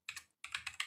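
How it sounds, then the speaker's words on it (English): Keys tapped on a computer keyboard while entering a terminal command, a short burst of close clicks, a brief pause, then a quicker run of presses. "you have to hit enter from the keyboard"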